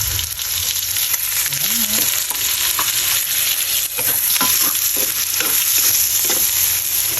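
Sautéed onions and cooked shrimp paste (bagoong) being stirred in a hot pan for laing, with a steady loud sizzle and repeated scraping strokes of the spoon throughout, no voices.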